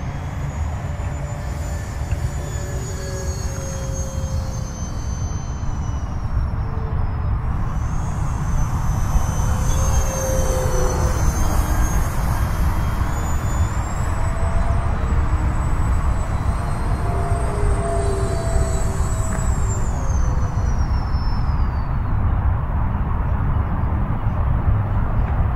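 An E-flite Habu 50mm RC jet on its maiden flight gives a loud, continuous whooshing roar with a high whine that rises and falls in pitch as it makes passes overhead.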